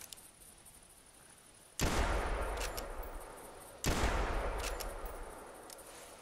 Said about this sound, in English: The gun is loaded up. Let's fire it and listen.